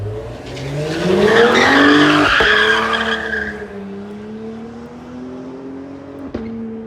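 A sports car accelerates nearby, engine rising in pitch then dropping sharply at quick gear shifts, with a brief squeal as it pulls away.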